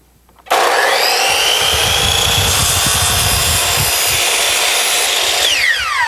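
A power saw cuts through a crown molding board, a loud steady whine that starts abruptly, holds for about five seconds and winds down at the end.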